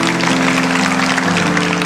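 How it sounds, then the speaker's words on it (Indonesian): A church congregation claps steadily and densely, fairly loud, with a faint sustained tone underneath. "Yang percaya kasih tepuk tangan untuk Tuhan."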